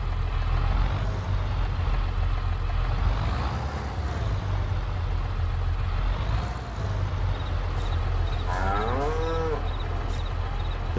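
Cattle mooing at a farm barn in Farming Simulator 22, a drawn-out low moo rising over a steady engine-like background hum, with a few short sharp clicks near the end.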